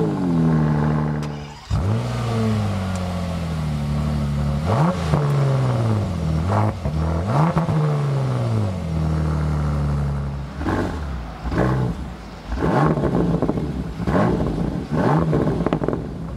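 Bentley Continental GT Speed with the 6-litre W12 and Akrapovic exhaust revs loudly and close up, with a sustained engine drone rising and falling, then a string of short sharp blips with crackles near the end.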